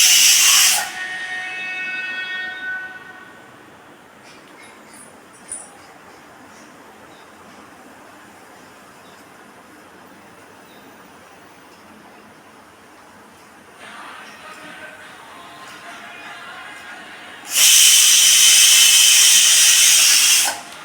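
A pressure cooker on a stove, cooking jackfruit payasam, releases loud, sharp whistling bursts of steam at the start and again near the end, with quieter hissing and kitchen ambience in between.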